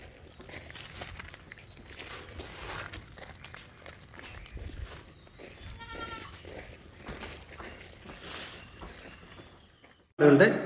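Malabari goats at a livestock sale bleat in short calls over background chatter and shuffling footsteps, with a loud burst of noise right at the end.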